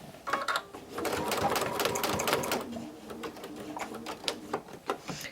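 A sewing machine runs in a steady buzzing whir while thread painting a greeting card, moved back and forth in bursts with brief slowdowns, close and fairly loud with nothing else over it.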